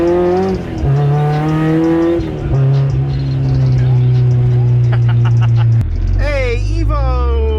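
Mitsubishi Evo with a newly installed clutch being driven gently to break it in, engine droning and climbing steadily through the gears with shifts and revs, loud and close, while people talk over it.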